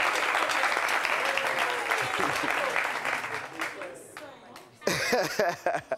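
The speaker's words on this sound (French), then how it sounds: "On peut les applaudir, s'il vous plaît, on peut l'applaudir." A studio audience on a French discussion show claps loudly and steadily for several seconds. The clapping then thins out into chuckles, a cough and people talking.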